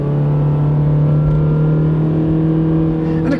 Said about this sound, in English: we'll put it back in regular gear and we'll see how it takes off with just regular